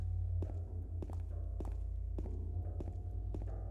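Footsteps of a second character, Maria, in the video game Silent Hill 2 (2001) thud at an even walking pace, several soft taps spaced under a low droning hum.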